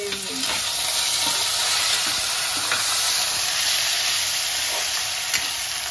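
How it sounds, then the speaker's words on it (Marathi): Green chili, mint and coriander sizzle steadily and loudly in hot oil, with a continuous bright hiss and a few soft stirring scrapes. "1 हिरवी मिरची, पुदिना आणि कोथिंबीर घालणार आहे"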